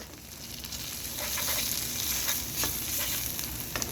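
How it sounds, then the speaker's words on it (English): Paprika, bay leaves, turmeric and tomato paste sauté in a hot pan for jollof rice, a close, steady sizzle broken by brief scraping stirs, with no talking. "So we're gonna saute that."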